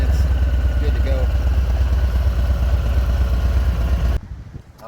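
A 2019 Harley-Davidson Fat Bob Softail 114 with a Bassani exhaust idles close by with a deep, steady low throb, and a voice speaks over it before the sound drops away abruptly near the end.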